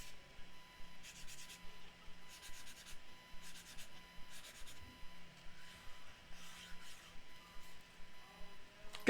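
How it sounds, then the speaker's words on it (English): A pen writing on paper, heard as a series of short, rhythmic scratchy strokes that repeat steadily and quietly up close, with no talking over them. "I'm writing something."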